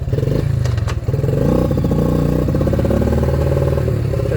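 A Yamaha 80cc four-wheeler's small engine, just fitted with a new carburetor and battery, revs up from a rough idle and settles back, its loud, close, steady drone pulsing with a fast mechanical throb.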